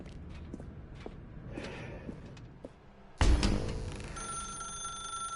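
A telephone rings in The Stanley Parable video game, a bright electronic ringing that starts abruptly partway through after quiet footsteps and ambient room noise, continuing steadily to the end.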